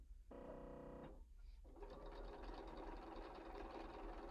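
A sewing machine runs a short burst stitching quarter-inch seams along two sides of a square-in-a-square pillow, a steady mechanical whir that stops, then resumes and continues to the end, close and fairly loud.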